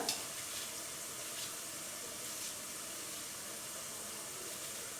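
Meat sizzles and browns in a pot for etli kuru fasulye, a steady close hiss of frying fat with faint stirring, no voices.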